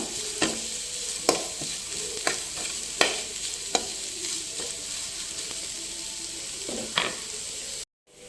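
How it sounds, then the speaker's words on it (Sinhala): Cooked rice being stirred into tempered vegetables seasoned with pepper powder in a pan, a steady soft sizzle broken by a series of sharp spoon scrapes and knocks, close and alone, ending in a brief silence. "අපි දැන් මේකට බත් ටික දාලා කවලම් කරගමු."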